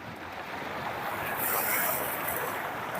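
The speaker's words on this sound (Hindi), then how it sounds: "पानी चल रहा है खेत में।" Irrigation water flowing into a wheat field in a rural village, a steady broad rushing wash with no pauses, fairly close and even, mixed with some wind noise and no talk.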